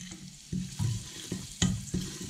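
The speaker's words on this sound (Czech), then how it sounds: "Orestuju ho, ten kmín." Caraway seeds being fried in rendered bacon fat for Szeged goulash, giving a soft sizzle with several distinct stirring scrapes and clatters in an irregular rhythm, close and moderately loud.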